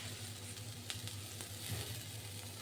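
Green chilies and chopped curry leaves sizzle in hot oil in a pan, a soft, steady frying hiss with faint crackles, heard close and alone.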